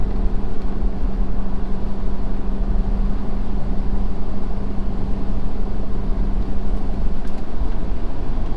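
A 2020 Ford Super Duty pickup with a 10-speed transmission, towing 18,000 pounds at about 2,900 RPM in sixth gear, gives a steady, loud engine drone with a constant low hum and no talking.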